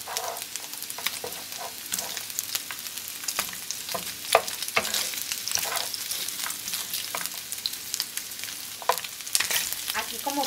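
Pork ribs sizzle and fry steadily in a pan, a dense continuous crackle with occasional stirring scrapes, close and fairly loud with no voices.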